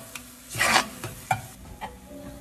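Eggplant sautéing in a pan, a quick burst of sizzle and a few scraping stirs of a spatula, close and brief.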